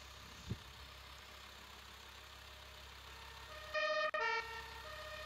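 An emergency vehicle siren in the video game Emergency 4 blares briefly and loudly over a steady low engine hum, cutting in and out within about half a second.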